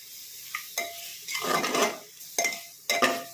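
A spoon stirring spices with Kashmiri red chilli in a pan, several scraping, clinking strokes with a soft sizzle underneath, close and moderately loud.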